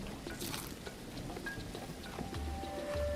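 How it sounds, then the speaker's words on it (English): Soft steady rain in a survival city-builder video game patters quietly in the background, a faint hiss with occasional drip sounds and low hums, no one speaking. "Oh, it's raining."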